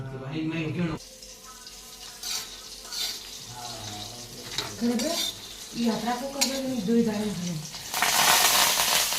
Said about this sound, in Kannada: ಶೇಂಗಾ ಕಾಳು ಹುರಿಯಾಕ್ತೀವಿ ನೋಡ್ರಿ